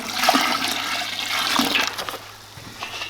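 Water gushes loudly and continuously outdoors on a spring day, a close, rushing flow that surges and eases slightly over a few seconds.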